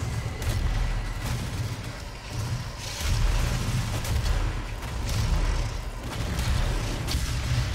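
Heavy cannon blasts and explosions from the video game DOOM, a dense, loud, continuous barrage of booming low impacts with rumbling debris throughout.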